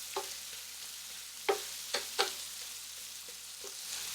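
Meat and vegetables frying in rendered brisket fat for chili, a steady close hiss of sizzling with a few soft scrapes and knocks as the mix is stirred.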